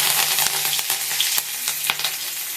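Asafoetida and curry leaves sizzling in hot oil as a tempering for a black chickpea dish: close, crackling frying with scattered pops and a faint stirring scrape, no voices.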